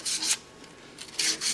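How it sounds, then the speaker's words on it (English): Hand sanding on a wooden lathe turning, with the lathe switched off. Abrasive strokes come in a back-and-forth rhythm, close and fairly loud, with paired rasping bursts separated by quieter gaps. "there's a little bit of sanding that needs to be done"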